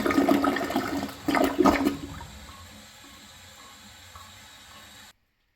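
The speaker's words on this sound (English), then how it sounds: "Let's have a look at a flush." An Eljer Patriot toilet flushes with a loud gurgling rush in bursts over about two seconds, then settles into a quieter steady trickle of the tank refilling before cutting off.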